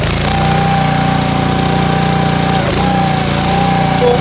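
A pressure washer powered by a Honda GX200 6.5 hp electric-start engine runs steadily nearby, a loud, constant mechanical drone with a faint whine, unbroken for the whole stretch.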